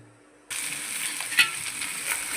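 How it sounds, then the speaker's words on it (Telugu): Onions dropped into hot oil in a pan for egg curry, a sudden loud sizzle that jumps in and holds steady with a brief stirring scrape, close and alone. "తర్వాత మనం ఎర్రగడ్డ వేద్దాం"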